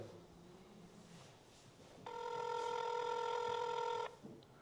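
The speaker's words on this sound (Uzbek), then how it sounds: "Mana hozirlar gudok ketmoqda." A steady telephone ringback tone sounds for about two seconds over quiet background hiss, starting and stopping cleanly.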